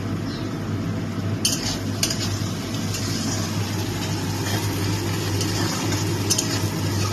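Onions fry in a pan with a continuous close sizzle, a low steady hum running beneath and a few sharp clicks from a utensil scraping the pan, with no talking.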